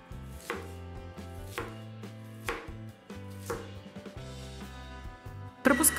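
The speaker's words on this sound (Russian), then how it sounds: "Точно так же на небольшие кусочки нарезаем лук." An onion is chopped into small pieces with a knife on a cutting board, giving steady, evenly spaced chops over background music and ending in a brief louder clatter.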